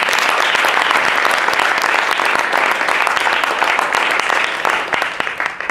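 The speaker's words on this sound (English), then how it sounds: "So big round of applause." An audience applauds after a performance by singers, with loud, dense, continuous clapping that tapers slightly near the end.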